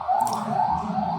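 An ambulance siren wails, rising and falling steadily at moderate distance near a main road, carrying above low background rumble, with no speech.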